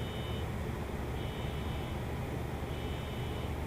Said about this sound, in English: Fuck that car alarm, I hear.